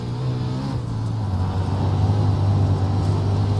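Engine of a USAC Wingless 360 dirt sprint car in iRacing at Huset's Speedway drones loudly and steadily on throttle, its low tone climbing slightly as it pulls.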